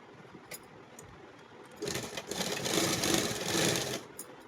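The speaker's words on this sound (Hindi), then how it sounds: "तो ये यहाँ से यहाँ इस तरीके से सिल रहा है।" Sewing machine stitching a plastic off-shoulder top, its motor running in a steady whirring burst of about two seconds after a quiet start, moderately close with no talk.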